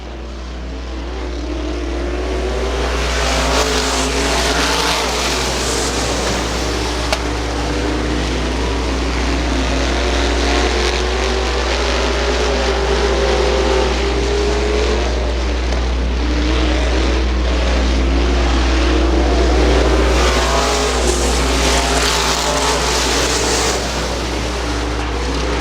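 Race cars lapping Butler Motor Speedway during a Friday night feature in 2001, a loud, sustained engine roar that drones on without a break and swells and eases slightly as the pack passes.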